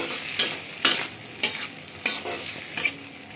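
Tomatoes with salt cook in a pan while a spoon stirs them in rhythmic, repeated scraping strokes about every half second over a soft sizzle, close up and with no voices.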